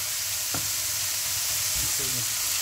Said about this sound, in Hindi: कीमा हमारा भुन रहा है